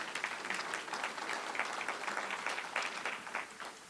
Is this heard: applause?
yes